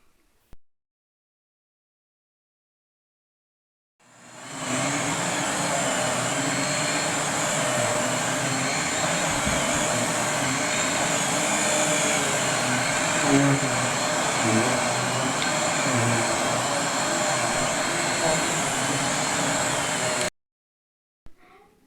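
A Riccar 25 series vacuum cleaner with its brush roller turning runs on hair-strewn carpet, giving a loud, steady motor roar that starts abruptly, holds for about fifteen seconds, then cuts off.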